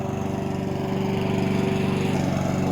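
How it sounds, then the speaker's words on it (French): A lawn mower engine runs at a holiday bungalow in Fishtë, Albania, with a steady, close droning hum that holds even throughout, alone without voices. "Désolée, il y a la tondeuse."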